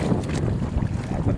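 Strong amihan wind blowing at sea from a small fishing boat, a steady loud broadband rush with low rumble and buffeting, no voices.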